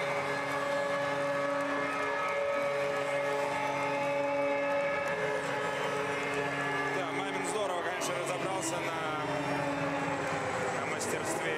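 The loud, sustained end-of-game siren blares through a KHL ice hockey arena after a 2-1 game between Vityaz and CSKA, mixed with crowd roar while a commentator talks over it.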